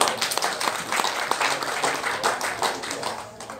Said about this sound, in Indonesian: kita beri aplaus dulu buat saya